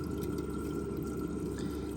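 Top-off water from a Red Sea Reef ATO pump trickling steadily into a reef aquarium tank, a continuous close, even watery flow with faint dripping and no talk.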